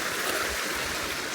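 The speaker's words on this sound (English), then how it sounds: "And there's this nice little water stream." A small natural hot-spring stream in Landmannalaugar, Iceland, flows steadily, giving a constant broadband watery rush close by with no speech.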